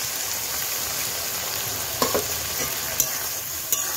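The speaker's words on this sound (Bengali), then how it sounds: "আর সামান্য একটু গরম জল দিয়ে মশলাটা ভালোভাবে কষিয়ে নেব" Spice paste with turmeric and a splash of hot water frying and being stirred for a mutton curry, a constant close sizzle broken by a few sharp spatula knocks against the pan.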